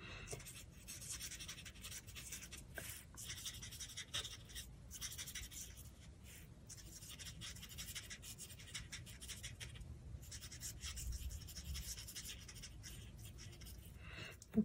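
Alcohol markers, Stampin' Blends, rubbing and scratching steadily across card paper, close and quiet with continuous soft strokes and brief pauses, no talk over it.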